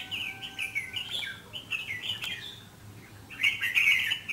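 A red-whiskered bulbul sings nearby, bright warbling phrases in two bursts separated by a short pause, clear over faint background hum.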